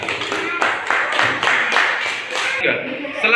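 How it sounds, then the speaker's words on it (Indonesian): A classroom of students claps for a group after its presentation, the claps coming as a run of sharp bursts with a few voices audible under them. "Tepuk tangan untuk kelompok 2."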